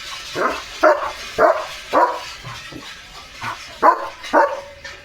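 A German Shepherd barks in a series of about eight deep, loud barks, spaced unevenly with short pauses between them, close by.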